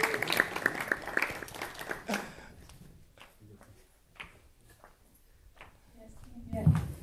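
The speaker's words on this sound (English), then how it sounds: "Can we give her a round of applause?" Applause from a church congregation at a Sunday meeting, a burst of clapping for a testimony that fades out after about two seconds, followed by quiet room sounds and a brief thump.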